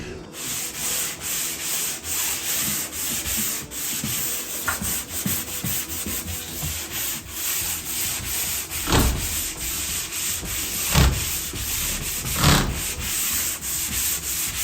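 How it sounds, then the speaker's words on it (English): Steady abrasive rubbing of a 120-grit sanding screen over a plaster Mediterranean wall texture, continuous and close with rhythmic strokes and a few louder scrapes, no talking. "So what I'm gonna do is I'm gonna go and sand this down."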